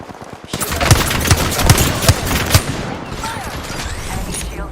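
Rapid bursts of gunfire crackle through a video game shootout, with repeated heavy shots in an uneven rhythm over a dense, busy battle bed.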